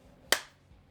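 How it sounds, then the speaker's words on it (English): One sharp hand clap rings out on its own, a short, bright crack that fades quickly against a quiet room. "Okay, maybe I clap once."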